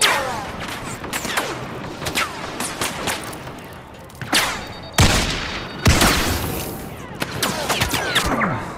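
Rocket explosion and gunfire in Star Wars Battlefront, with rapid bursts of blaster fire, sharp impacts and several loud booms around the five- and six-second marks, all close and dense.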